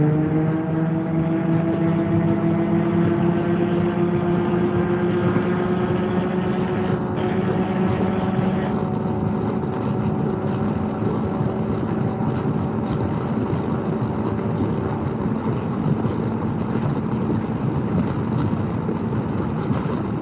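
Can-Am Ryker three-wheeler running on the open road, a steady droning exhaust with rising and falling engine tones and wind rush, loud and continuous with no talk.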